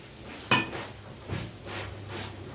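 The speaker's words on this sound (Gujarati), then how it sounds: "અહીંયા મારે ભાત ચમચો ફેરવું છું, ભાત થઈ જાય" A ladle is moved through rice cooking in a pot, with a sharp metal clank, then softer scraping knocks over a low bubbling hiss.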